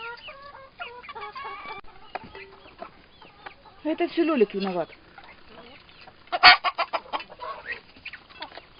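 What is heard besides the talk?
chickens and rooster clucking in a poultry yard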